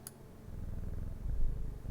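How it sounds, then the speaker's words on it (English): A cat purrs in the video game Strange Horticulture, a soft, steady low rumble that builds slightly over two seconds, opened by a brief click. "It purrs!"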